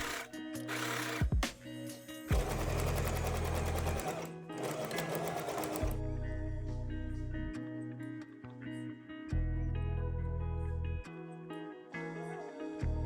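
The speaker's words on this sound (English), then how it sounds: "take bias tape and sew it to the wrong side 7 mm from the edge" A sewing machine stitches bias tape onto pants fabric with rapid mechanical whirring runs, several start-stop bursts with short pauses for backstitching, close and clear with no talking.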